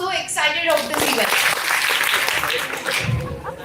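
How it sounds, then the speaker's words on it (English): An event audience bursts into brief clapping right after a voice finishes speaking, the applause dense and loud before tapering off with a voice returning at the end. "Clap twice if you are so excited of this event"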